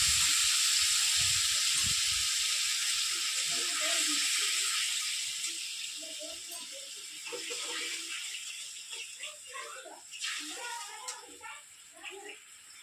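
Tamarind water is poured into chili frying in oil for a chutney, giving a hissing sizzle that starts loud and slowly fades, with faint handling sounds and a quiet voice later.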